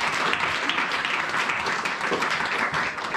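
A church congregation applauds and cheers during a worship service, a dense, steady wash of clapping filling the space at full volume throughout.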